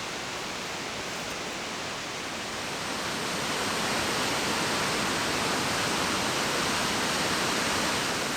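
Fletcher Falls, a raging waterfall on a swollen creek in Canada, roars as a dense, steady rush of water close by, growing slightly louder as it goes, with no voices.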